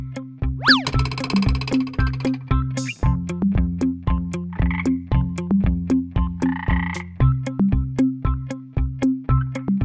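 Cartoon frogs croak in a steady rhythmic series of loud, close, bouncy croaks, with a couple of springy boing-like sound effects mixed in and no talking.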